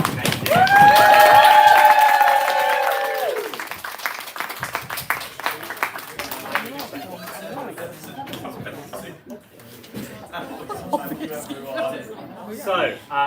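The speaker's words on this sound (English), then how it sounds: "Round of applause for Bodhi." Student meeting attendees give a round of applause indoors, a dense burst of clapping at the start that fades into chatter and scattered claps, with voices talking over it.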